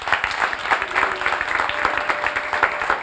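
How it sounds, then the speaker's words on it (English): An audience claps together in a dense, steady burst of applause that fills the room evenly and holds at a constant level from start to finish. "let's clap for him once again"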